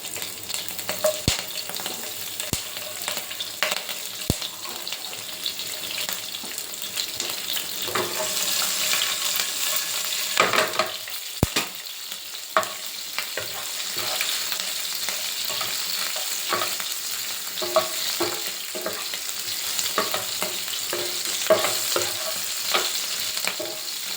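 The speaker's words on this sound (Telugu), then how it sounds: "ఓన్లీ జీరా ఈ జీలకర్ర వేగిందండి తర్వాత పచ్చిమిర్చి వేసుకుంది" Green chillies and cumin seeds fry in hot oil for a carrot, capsicum and potato curry, giving a steady, close sizzle with occasional sharp stirring clicks throughout and no talking.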